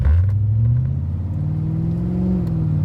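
A C4 Corvette with a freshly rebuilt transmission pulls away from a stop on a test drive, its engine droning loud and steady as the pitch climbs through a gear and holds, with no talk.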